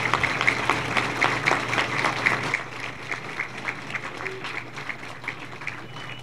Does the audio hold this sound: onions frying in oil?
no